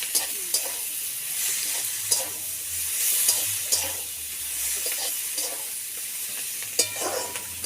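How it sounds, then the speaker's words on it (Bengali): Eggplant pieces sizzle and hiss in a hot pan with oil while a spatula stirs them, scraping clicks punctuating the steady frying over several seconds, close and alone. "এটাও একটু ভালো করে ভাজা ভাজা করে"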